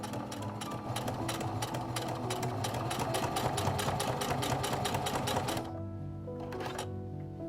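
A sewing machine runs in a steady rapid stitching rhythm, basting two layers of corset fabric for an 1870s-style corset, then stops briefly before a few more stitches close by.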